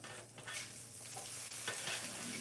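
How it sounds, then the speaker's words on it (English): Shrimp stirred in a hot frying pan, with a steady close sizzle and brief scraping strokes from the stirring, and no talking. "Give these a quick stir."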